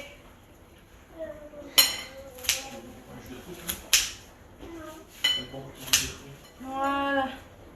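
Vegetables for pistou soup being cut on a board, sharp knife clicks and scrapes at irregular intervals, close and distinct, with a voice speaking between cuts.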